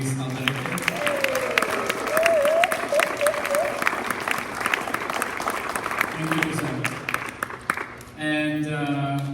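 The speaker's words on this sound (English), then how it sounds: "another new round of applause for Josiah Luis Alderete" A live audience at the closing of the San José Poetry Festival applauds Josiah Luis Alderete, with sustained, steady clapping close by and a voice calling out over it before the clapping thins near the end.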